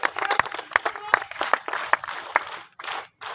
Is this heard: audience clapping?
yes